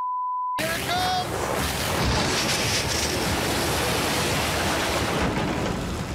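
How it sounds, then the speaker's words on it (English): Water rushing into a gold mining plant, a loud, steady broadband roar that fills the whole stretch after a short tone and a brief whistle-like sound at the start. "Water's coming."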